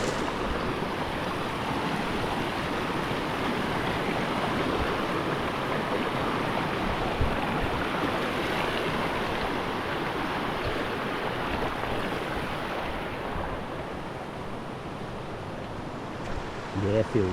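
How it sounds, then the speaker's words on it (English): A jungle river runs past a rocky crossing on a humid Tahiti waterfall hike, a steady broad rush of water filling the scene loud and constant, easing slightly near the end. "Here's one of the famous river crossings."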